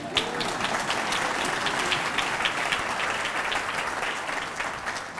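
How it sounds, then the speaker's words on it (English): An audience at an awards expo applauds the mayor with a full, sustained round of clapping, loud and dense throughout and tapering slightly at the end, without speech. "Mr. Mayor would love to know that you applauded him."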